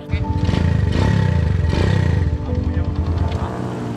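Several motorcycle engines warming up together, a loud continuous low rumble with gentle rises and dips in revs, close by and without speech.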